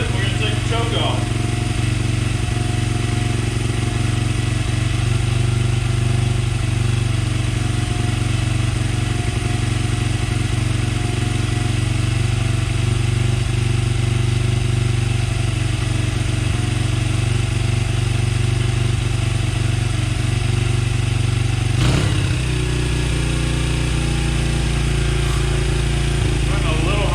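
A Honda CRF80F dirt bike engine warming up with the choke on runs at a steady, loud idle, its drone continuing for the whole stretch with a brief dip and change in tone near the end.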